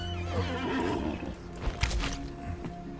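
A horse in the Conan Exiles game whinnies loudly over a steady ground of game ambience, with a couple of hoof thumps near the middle; no one speaks.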